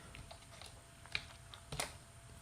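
Sparse keystrokes on a computer keyboard while Python code is entered, a handful of quiet clicks with one or two sharper taps, no voice.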